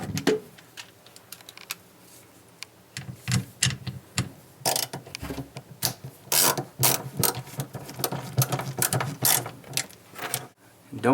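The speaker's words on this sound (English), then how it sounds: "we're going to install the 8-inch subwoofer to the mounting plate using the supplied" A screwdriver drives the supplied screws to fix an 8-inch subwoofer onto a pinball speaker mounting plate, producing close, busy ratcheting clicks and mechanical rattles in irregular bursts throughout.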